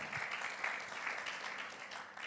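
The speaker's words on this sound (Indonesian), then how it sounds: "Mari berikan tepuk tangan." A church congregation at an Indonesian Sunday afternoon service applauds together, a steady, soft wash of many hands clapping that holds evenly for a couple of seconds, heard alone without talk.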